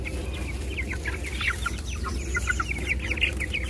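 Young chickens cluck and peep in a busy, overlapping chorus while squabbling over food, close by above a steady low rumble.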